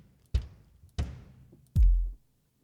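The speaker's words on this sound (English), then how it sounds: "The kicks, there's a couple acoustic kicks and a roomy kick and then an 808 kick." Kick drums from Superior Drummer 3 play one at a time: two acoustic kicks, then a roomy kick, then a longer, booming 808 kick. Each is a single punchy hit, with short gaps between them.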